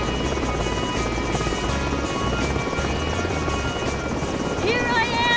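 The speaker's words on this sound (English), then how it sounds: "That's a private chopper." A private helicopter flies over an Alpine gorge in an animated series, its steady rotor roar dense and loud throughout, with a faint voice rising briefly near the end.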